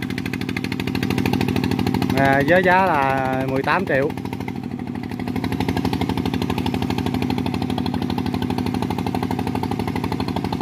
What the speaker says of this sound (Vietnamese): Đầu máy động cơ Kubota RT100.